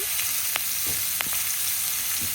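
Onion frying lightly in a pan for khuder bhat and bhorta, giving a steady soft sizzle with a few brief crackles and light stirring clicks, alone with no voices.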